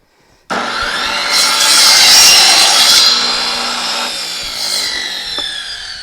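A table saw with a cross-cut sled slices through a laminate flooring board, a loud, close whining cut that starts abruptly, swells, then tapers as the blade finishes the pass.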